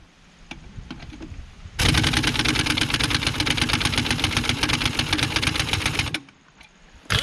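Harbor Freight air tool running on a 3/8 hose while moving wheels on an International 1086 tractor, a loud rapid mechanical rattling burst of about four seconds, with quieter clicks before and after.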